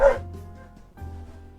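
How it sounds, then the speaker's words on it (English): Dogs barking in a short burst, a loud bark at the start and another after a brief pause, with low growly tones underneath and no talk. "That's a lot of dogs."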